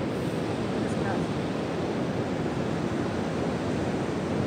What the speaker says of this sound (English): There's miles and miles of beach here.